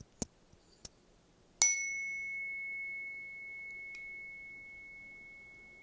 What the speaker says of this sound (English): as the sound of the bell fades